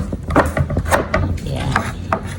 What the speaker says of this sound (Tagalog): Tapos hiwain natin itong pipi into small pieces.